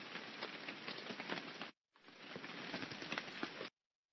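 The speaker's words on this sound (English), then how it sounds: "On a rainy day, I hear raindrops hitting the windows." Rain patters densely on window glass in a steady hiss, broken by a short gap and then stopping abruptly; no one speaks.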